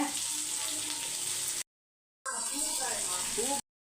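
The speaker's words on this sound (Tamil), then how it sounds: "அதுக்குள்ளே வெங்காயத்தை வதக்கிடலான்னு சொல்லிட்டு" Sliced onions sautéing in a pan for fish curry give a steady close sizzle and frying hiss, broken by a short silent gap before the sizzling resumes.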